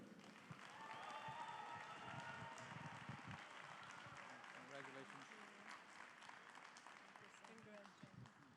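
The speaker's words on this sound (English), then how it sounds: "Please give a warm applause to Dr." Steady audience applause fills a large hall at an award ceremony during a Konkani Sammelan, a dense continuous wash of many hands clapping at moderate level, with voices mixed faintly underneath.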